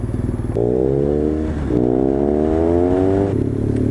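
A BMW R1200 GS motorcycle rides along, its boxer engine humming loud and close through two gear changes with rising revs between shifts, wind rushing underneath.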